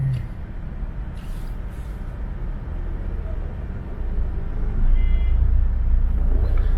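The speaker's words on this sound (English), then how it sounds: "So this big truck is trying to go in or out?" Steady highway traffic rumbles nearby, with a big truck's low engine drone swelling louder toward the end.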